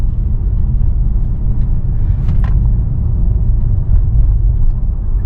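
Inside a car on a scenic drive in the Bay Area, a loud, constant low rumble of engine and road noise fills the cabin with no break. A couple of faint knocks are heard, but no voices.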